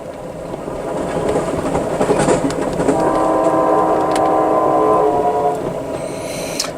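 A train rumbles past close by, with a steady mechanical roar, clattering wheels and a sustained horn blast in the middle.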